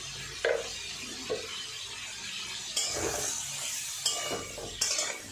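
Potatoes and carrots fry in a pan with a steady soft sizzle, broken by several scraping stirs and light clinks of a utensil against the pan.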